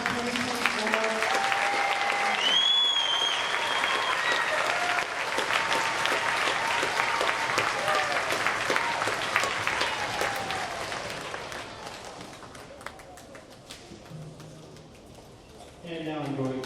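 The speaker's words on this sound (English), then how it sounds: "So one more round of applause for someone for the class of 2024" An audience at a school band festival applauds loudly and steadily for most of the stretch. A voice speaks over the clapping, which thins and fades toward the end.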